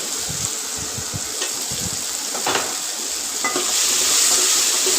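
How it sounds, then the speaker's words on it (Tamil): Cut bitter gourd pieces sizzle steadily in hot oil in a pan for a Tamil tamarind curry, with a continuous frying hiss and a few soft stirring scrapes and clinks near at hand, growing slightly louder toward the end. "அடுத்தது கட் பண்ணி வச்சுக்கிற பாகக்காயை சேர்த்துக்கலாம்."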